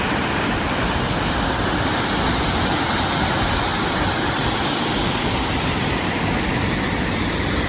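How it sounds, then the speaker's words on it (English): A powerful waterfall in Glacier National Park, Montana roars steadily and loudly, a dense, unbroken rush of crashing water filling the whole clip with no voices. "A lot of powerful water there."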